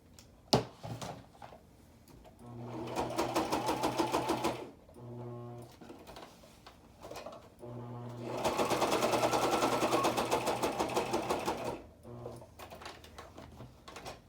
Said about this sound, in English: it's very easy to sew through this stuff on your machine.